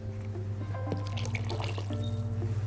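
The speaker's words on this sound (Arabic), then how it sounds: "ممكن ازود بس شويه ميه صغيرين كمان" Water is poured into broth for chicken maqluba, a close, soft, burbling trickle of liquid with small splashes over a steady low hum from the kitchen.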